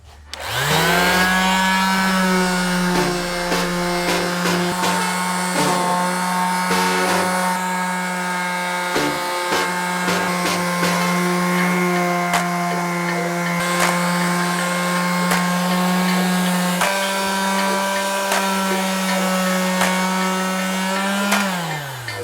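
An orbital sander sanding wood drones at close range with a steady, high-pitched motor whine, running continuously for about twenty seconds before winding down.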